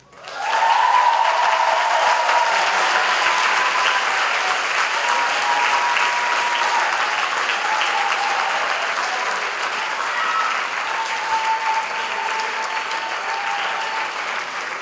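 Sustained applause from a large audience at a 2022 Catholic school graduation award presentation, dense and steady for about fifteen seconds, fading only slightly toward the end with no talk over it.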